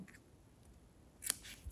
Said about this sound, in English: and cut off the yarn.